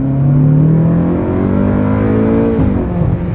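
A powerful Ferrari sports-car engine revs and holds a loud, steady roar, its pitch sliding slightly up and down throughout.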